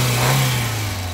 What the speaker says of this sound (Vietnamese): máy gầm cực chất luôn